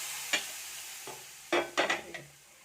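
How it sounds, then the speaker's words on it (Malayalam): Kashmiri chili powder hitting hot oil in a small pan while tempering for a chickpea curry gives a soft background sizzle with a few sharp spoon scrapes and stirring clinks, close and quiet. "ഇതിലോട്ട് ഞാനൊരു ചെറിയ ടീസ്പൂണിൽ കുറച്ച് കാശ്മീരി മുളക് ഇട്ട് കൊടുക്കുന്നുണ്ട്."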